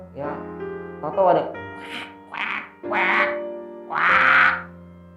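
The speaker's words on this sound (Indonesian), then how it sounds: "suara burung gagak." Harsh crow caws ring out in a string of about four rising, nasal calls, each louder than the last, following a few spoken words during an online church service.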